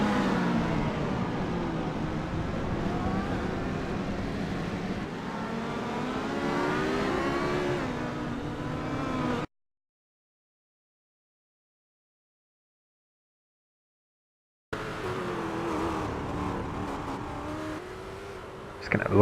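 Prototype and GT race cars, including a Ford GT, lap Virginia International Raceway in a sim racing game, with engines droning and rising in pitch under acceleration. A stretch of total silence sits in the middle.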